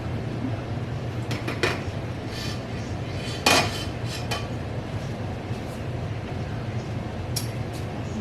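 Glass quart canning jars of figs set into a water-bath canner, giving several sharp clinks and knocks spread across a steady low hum, one louder clunk midway.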